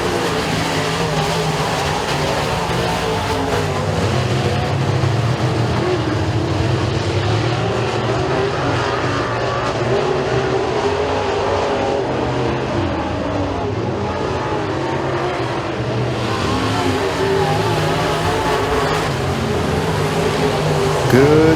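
Race cars roar steadily through turns 3 and 4 in a heat race at Eriez Speedway, a dense, continuous engine drone close by, with a faint announcer voice underneath.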